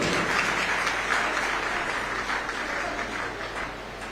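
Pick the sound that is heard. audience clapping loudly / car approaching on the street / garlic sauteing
audience clapping loudly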